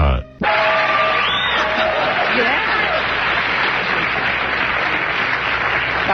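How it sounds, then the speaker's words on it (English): A live audience at a magic show breaks into loud, dense applause mixed with whoops and yells, starting abruptly and continuing without pause. "They're just applauding because she got a sentence out"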